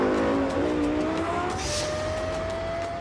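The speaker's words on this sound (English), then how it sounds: "And the sound of this high-revving engine is unmistakable." A Lexus LFA's high-revving engine screams close and loud, its sharp mechanical wail climbing in pitch as it revs, with a tinge of tire noise.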